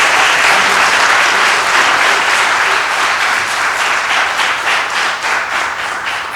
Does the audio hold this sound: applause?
yes